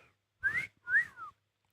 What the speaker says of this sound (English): that's a wolf whistle